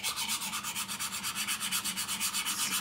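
A saw blade scraped back and forth across a copper lap to resurface it, giving a steady, close rasping scratch with an even rapid rhythm of strokes throughout, no voices.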